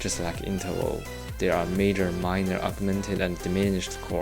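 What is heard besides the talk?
None of the usual background noises is heard.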